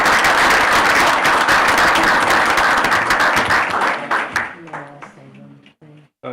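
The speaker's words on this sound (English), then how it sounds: "Can we get a round of applause for them?" Loud, dense applause from members at an annual meeting honors David and Mike Matthews for their water system work, tapering after four seconds as a voice begins talking over the last claps.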